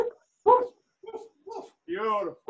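During a boot camp workout, people imitate dog barking with their voices, giving several short woofs and a longer howl-like bark in quick succession, close and loud.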